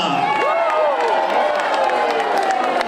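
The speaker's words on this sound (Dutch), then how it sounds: "Maak een daverende warm applaus voor William Woppa." A crowd greets a stage performer with applause, cheering and whoops, lively clapping mixed with shouts and rising voices throughout.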